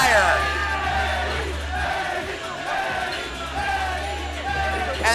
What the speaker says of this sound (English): the crowd is on fire